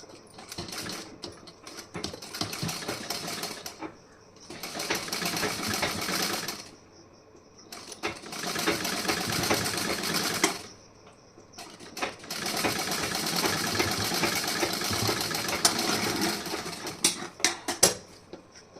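Electric sewing machine stitching a blouse: steady bursts of rapid clattering stitches in four runs separated by short pauses, close and moderately loud, with no talking.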